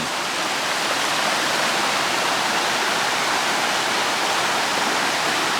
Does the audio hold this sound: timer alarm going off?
no